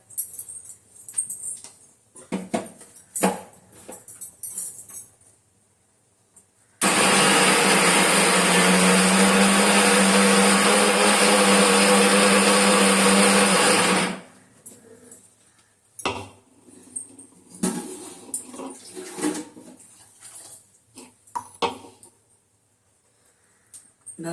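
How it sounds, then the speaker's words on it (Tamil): A mixer grinder whirs loudly for about seven seconds while grinding green chillies and ginger. Quieter kitchen clatter of utensils comes before and after the motor runs. "இந்த பாருங்க 3 பச்சை மிளகா, இஞ்சி போட்டு நைஸாக அரைச்சிட்டு வந்துடணும்"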